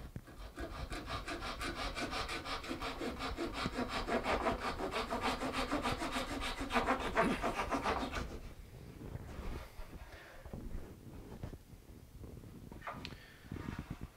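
A hand saw cuts wooden side struts shorter on a steel-string acoustic guitar, with steady rapid back-and-forth rasping strokes for about eight seconds before stopping, followed by quieter handling and scraping sounds.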